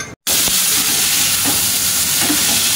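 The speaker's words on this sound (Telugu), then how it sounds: "ఆలు ఫ్రై చేస్తున్నాను" Potatoes fry loudly in a pan with a dense, continuous close sizzle and hiss, after a brief dropout at the start, with a few faint clinks.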